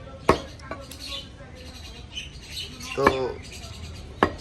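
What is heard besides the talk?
butcher cutting buffalo beef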